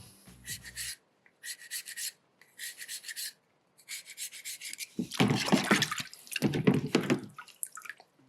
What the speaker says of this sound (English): we have to carve that forehead back a little bit